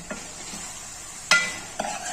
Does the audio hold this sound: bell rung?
no